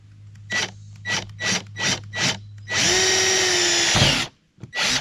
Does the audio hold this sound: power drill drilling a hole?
yes